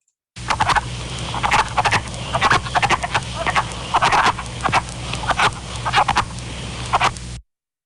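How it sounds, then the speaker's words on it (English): A dense chorus of wood frogs, their short clucking, duck-like calls overlapping continuously and rising in bursts, close and loud. "Wood frogs don't have your typical ribbit sound or croaking like you think of."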